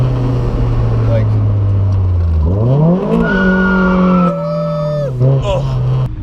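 Mazda MX-5 Miata with an open differential revving hard while trying to drift, its engine note climbing and holding loud and near, with the pitch rising and falling across several seconds.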